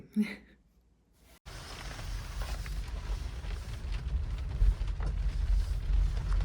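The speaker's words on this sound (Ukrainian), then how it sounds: "У нас отак от іде дощ зі вчорашнього дня, без перестанку." After a brief quiet start, steady rain falls outside in a village in Italy, making a continuous broadband hiss with occasional heavier drops.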